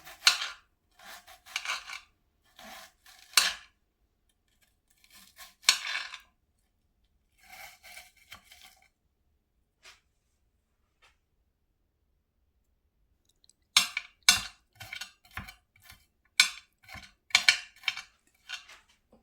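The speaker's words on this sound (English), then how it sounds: "We're just going to chop our onion." A knife chopping onion on a board, bursts of quick crisp taps separated by quiet pauses, fairly close, with no talking.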